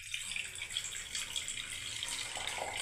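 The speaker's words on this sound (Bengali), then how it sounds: "এবার আমি কিছুটা পরিমাণ জল দিয়ে দিচ্ছি বন্ধুরা" Water is poured into a pressure cooker before corn is added for boiling, a steady hissing splash running close and unbroken throughout without any talk.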